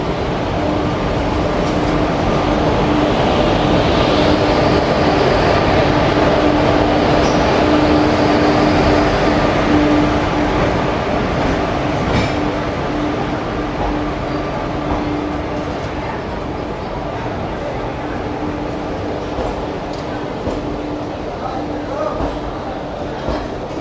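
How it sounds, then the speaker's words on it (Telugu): The Pinakini train pulls into a station platform with a loud, sustained rumble and rolling roar that gradually eases off, and crowd noise and voices can be heard beneath it. "మనకి పినాకిని ట్రైన్ వస్తూ ఉంది"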